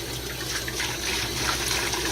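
Water carrying frozen mysis shrimp fish food is tipped out of a container, a continuous close pour and splash lasting about two seconds, steady and moderately loud.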